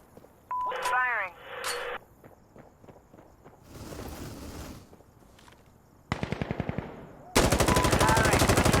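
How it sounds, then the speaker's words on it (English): Insurgency Sandstorm combat: a gunship unleashes machine gun fire that builds into loud, rapid bursts and then a dense sustained stream, following footsteps and radio-style voice callouts. "Gunship's coming in! Stay clear of the target! Loading! Firing."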